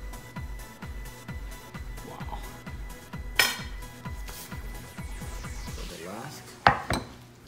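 Dishes clink as sautéed asparagus with garlic and olive oil and pan-roasted potatoes are plated, with a few sharp ceramic and cutlery knocks over a steady rhythmic background beat.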